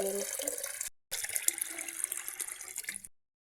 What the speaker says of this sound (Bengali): পানি